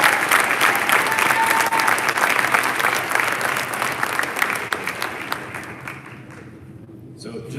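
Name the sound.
audience applause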